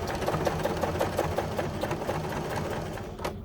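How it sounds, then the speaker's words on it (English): A sewing machine reverse-stitches back over existing stitches, its close, steady mechanical whir broken into a fast, even train of needle pulses that runs for several seconds before easing off. No one speaks. "Go back over the existing stitches. Those are now locked in."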